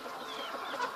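A large Lipper game rooster gives soft, close clucks in a short burst, fairly quiet with no talking over it.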